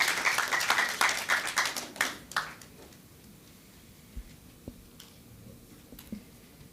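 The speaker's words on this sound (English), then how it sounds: "Please give applause to Polytechnic Negeri Media Kreatif." An audience applauds at the JICOMS 2023 event, a burst of clapping that fades out after about three seconds, leaving a quiet room with a few scattered taps.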